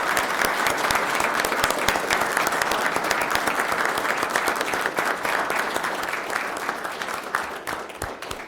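Applause rises from the audience at a town select board meeting in honor of the fire service members present, sustained and dense clapping from many hands that holds steady and loud before easing slightly at the end.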